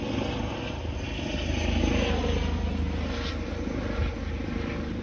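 A helicopter drones continuously, a low throbbing engine rumble that stays fairly steady and moderately loud with no voices.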